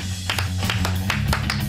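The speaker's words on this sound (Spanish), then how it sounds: "Pues un fuerte aplauso para Ángels Barceló" Studio audience applause for the guest Ángels Barceló on a Spanish comedy show, a dense burst of clapping that rises and sustains with loud crowd noise throughout.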